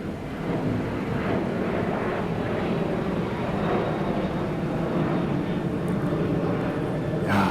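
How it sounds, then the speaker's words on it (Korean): A propeller airplane passes overhead during an outdoor drive-in church service, a steady broad engine drone that holds at a moderate level throughout, with no speech over it. "드라이브인 예배 드리니까 또 이런 비행기 소리도 들을 수 있고"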